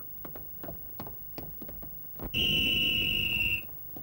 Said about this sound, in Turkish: Düdük çalıyor mu diye baktım da